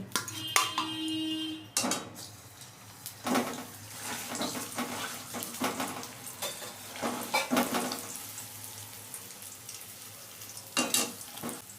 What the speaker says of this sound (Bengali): কড়াইতে তেলটা দিয়ে দিলাম। এবার দুটো আলু আমি মেখে রেখেছিলাম সেইটা দিয়ে দিচ্ছি।